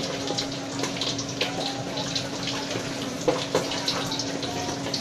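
Water runs steadily from a tap into a container in a home kitchen where kare-kare is being prepared, a continuous splashing flow at moderate loudness with no talk.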